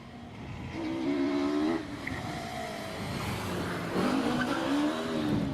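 A hill climb race car at Prescott drives through S-bends with a slight slide, its engine note rising and falling across gear changes, with tyre squeal audible at a moderate distance.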